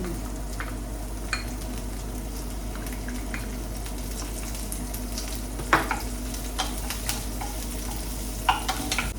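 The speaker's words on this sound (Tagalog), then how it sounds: "Luto na ako ng itlog." Eggs fry in a pan in a home kitchen with a continuous low sizzle and spatter, broken by a few sharp clinks and scrapes of a utensil against the pan.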